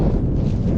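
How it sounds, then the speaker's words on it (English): Wind buffets the microphone in an open farm field, a constant loud rushing roar over the short moment. "the wind has picked up"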